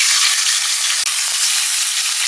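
Pomfret sea fish frying in a pan, a continuous loud hissing sizzle that holds steady with a few tiny dips and no talking.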